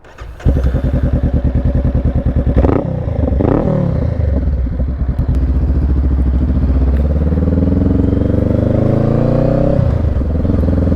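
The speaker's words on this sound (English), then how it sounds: "I'm gonna start it up so y'all can hear that exhaust." A 2024 Honda Rebel 500 motorcycle starts up and settles into a loud, steady exhaust idle with a quick throttle blip early on, the engine running close and alone throughout.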